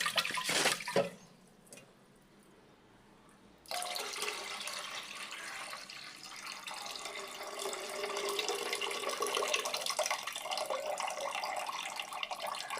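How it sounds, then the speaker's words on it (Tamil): Water runs from a tap over rice being washed in a kitchen sink, a steady close splashing stream after a brief quiet gap near the start. "நல்லா தெளிவாக தெரியுது அரிசி ஸோ இந்த மூணு டைம் போதும் வாஷ் பண்ணுங்கள்"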